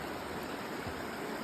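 A small stream flows beneath a footbridge on the Appalachian Trail in Maryland, a soft, even wash of trickling water heard faintly and alone.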